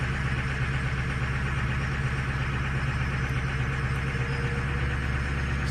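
A car engine idles steadily after a cold start, a constant low rumble close by with no talk. The engine has a misfire affecting several cylinders.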